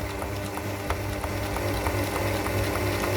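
Sewing machine runs a second seam with its foot guided along the first, a soft steady mechanical whir with faint regular ticking, quiet and unhurried.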